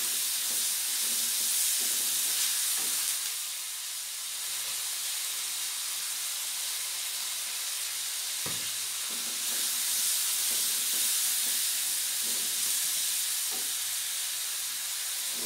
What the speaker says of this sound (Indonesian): Ini kita aduk-aduk.